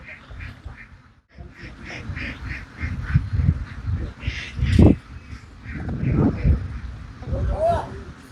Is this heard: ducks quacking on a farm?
yes